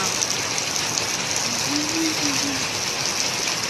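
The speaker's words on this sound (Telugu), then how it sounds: "ఎంత కొడుతూ ఉందో చూడండి వాన." Heavy monsoon rain pours down steadily during a bike trip, a dense, loud, unbroken hiss of drops striking surfaces, with a faint low tone briefly surfacing midway.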